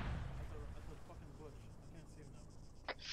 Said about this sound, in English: That's gonna be friendly mortars landing right now.